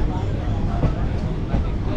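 A Kolkata circular railway train moves along, its low rumbling and clatter steady throughout while voices talk over it.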